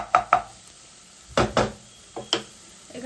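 Onions chopped finely with a knife on a board, sharp uneven thuds in small clusters with pauses between them, close and clear.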